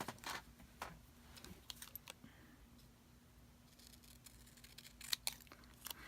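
Small scissors snipping around a planner sticker, close by and quiet, giving a few crisp cuts at the start, a quieter stretch, and then another short run of snips near the end.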